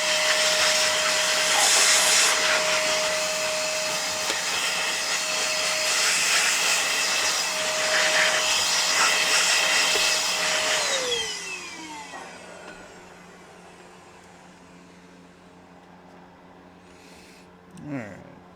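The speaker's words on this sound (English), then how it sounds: "we're going to blow all the dust out of this screw" Compressed air blasting dust out of a screw hole on an Xbox One X console: a loud, steady, close-up hiss for about eleven seconds that winds down and fades, followed by a short final puff.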